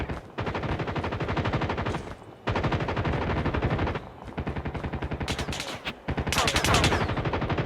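Call of Duty gunfire rattles in long rapid machine-gun bursts, loud and close, broken by a few brief gaps, with a sharper crackling flurry near the end.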